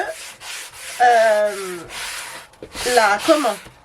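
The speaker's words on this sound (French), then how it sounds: "je commence à griffer, à poncer l'agenda" Rough rubbing and scraping of sandpaper across a planner cover being scuffed before painting, in a few short back-and-forth strokes with brief gaps, close and fairly loud.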